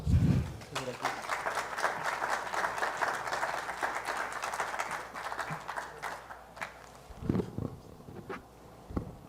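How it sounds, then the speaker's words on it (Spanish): Audience applause at an engineering anniversary lecture, a dense steady patter of many hands clapping for several seconds before fading out, followed by a few isolated voice sounds. "Un fuerte aplauso."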